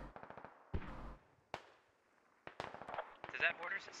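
Mortar fire in a video game: a series of sharp cracking reports, some in quick rattling clusters and others as single thuds, varying between near and distant, with a voice talking partway through.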